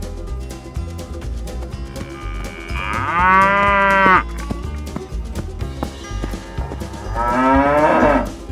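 A cow moos twice, two long loud lowing calls a few seconds apart, heard over steady cheerful background music.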